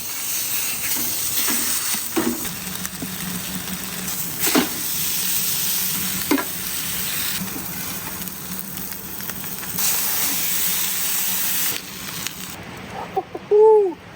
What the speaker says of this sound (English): Time to cook the patties.